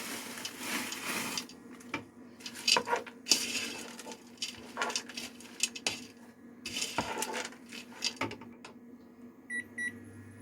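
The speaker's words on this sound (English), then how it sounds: "And we'll go ahead and add this corn to the mix as well." A utensil repeatedly scrapes and knocks against a pan as ground beef and corn are stirred, making irregular clattering bursts over a low kitchen hum, with a few beeps near the end.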